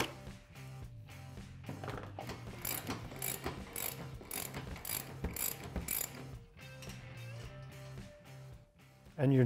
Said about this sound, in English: we're using a 15mm socket and wrench to remove the A-pillar bolts.